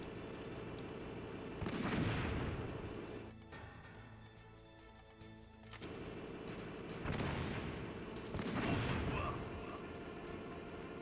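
A stun grenade thrown at a tank in Metal Gear Solid: muffled booming blasts and crackling bursts from the game, several separate impacts spread across the moment over a constant background rumble.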